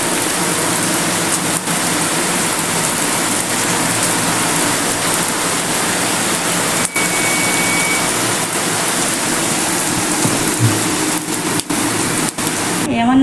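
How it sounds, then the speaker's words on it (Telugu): Steady rain falling in Kadapa, a dense, continuous hiss that stays even and fairly loud for the whole stretch, with no clear pauses or separate drops standing out. "వర్షం వచ్చింది."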